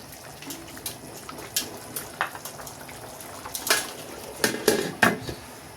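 Boiling plain white khichuri is stirred in a pot with a spoon, making faint bubbling and scraping under a few sharper metallic clanks that bunch together toward the end, close and moderately quiet.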